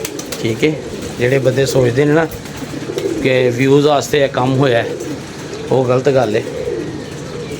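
Pigeons coo in a loft or feeding area, repeated throaty bursts close by and fairly loud, overlapping with someone talking throughout.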